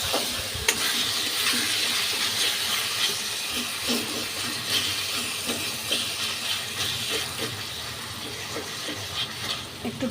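Chopped tomatoes and masala frying in oil in a pan over a raised gas flame for Bengali chicken kosha: a steady, close sizzle and hiss with occasional soft stirring knocks throughout.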